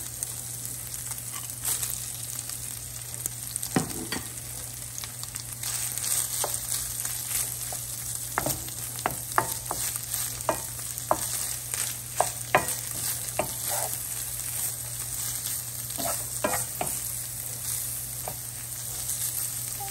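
Bacon and chopped onion fry in a pan for Polish sour rye soup, a continuous sizzle broken by repeated scraping strokes of a utensil stirring against the pan, close and steady with no talking.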